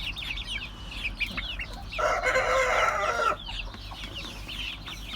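Growing Türken, Ameraucana and village chicks and young roosters cluck and chirp steadily nearby, with one young rooster's loud, rough crow rising over the flock midway.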